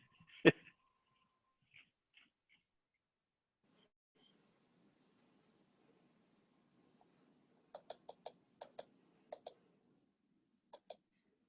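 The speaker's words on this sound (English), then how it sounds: "Who's typing out the SOS message?" Keyboard typing during a township council video meeting, heard as faint, sparse clusters of quick clicks in the second half, with a single louder knock near the start and near silence in between.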